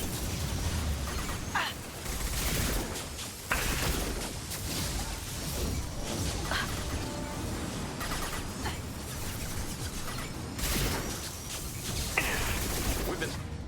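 In the Mass Effect Legendary Edition video game, a firefight crackles with sustained gunfire, bursts and pops of flashbang grenades and mechanical clatter over a dense, loud mix. Voices speak at times.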